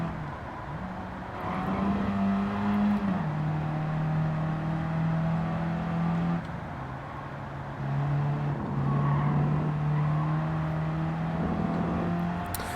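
Simulated engine of a car in Gran Turismo 7 lapping the Nurburgring, droning steadily at high revs with a few gear-shift steps and lifts, loud and continuous with no talk.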